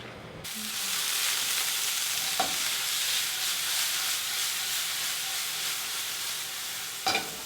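Cherry tomatoes and onion sauté in a hot pan with a steady, loud sizzle and hiss, broken by a couple of sharp stirring scrapes, and no voices.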